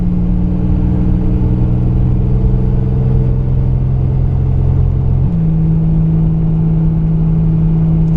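A 1986 Buick T-Type engine holding a steady mid-pitched hum and rumble while driving gently and still warming up, with a drop in engine note partway through as it shifts. The sound comes from inside the car, with no talking.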